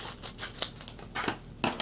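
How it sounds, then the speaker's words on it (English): Scissors snip through a small piece of heat-transfer vinyl in a rapid string of close, crisp cuts, quiet and with no talking. "let me get some scissors and cut this little piece"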